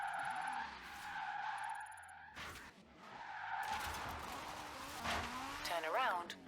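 A car drifts in the Forza Horizon 4 video game, its engine droning and revving while the tires let out long wavering squeals and skids that swell louder toward the end, with a voice talking over part of it.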